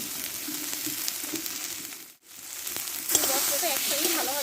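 Spice paste with salt and turmeric frying in a pan for a Bengali rohu fish curry with potatoes, a steady close sizzle that briefly drops out midway and then returns louder and brighter.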